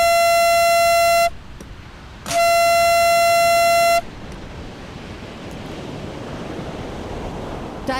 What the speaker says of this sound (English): That is the sound of the buzzer ending the heat 5 of round 1.